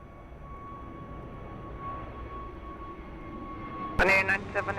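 A fixed-wing airliner on short final to runway 02 at Lisbon Airport drones steadily with a continuous engine roar and a faint high whine, ending in a loud crackling burst.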